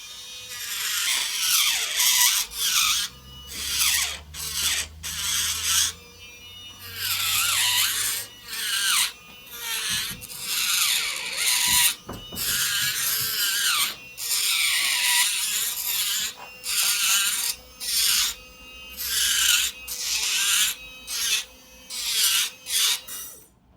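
A rotary tool smoothing down the bite area of a Tanner dental appliance, whining and grinding in repeated bursts of a few seconds with short pauses, close and fairly loud.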